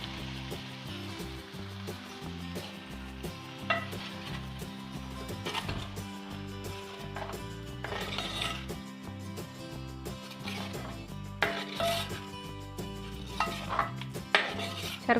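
Jaggery syrup stirred in a pan while cooking ada pradhaman, the Kerala Onam sadya dessert: soft, irregular scrapes and clinks of a spoon against metal, faint and close, over quiet background music.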